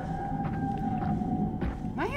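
A whale call in the video game SOMA sounds as a long, drawn-out tonal moan over a low underwater rumble, ending in a few quick rising sweeping cries.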